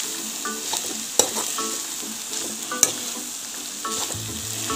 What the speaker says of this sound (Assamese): এনেকৈ ভাজি ল'লে মানে তেতিয়া কেঁচা কেঁচা ভাপটো নাইকিয়া হয়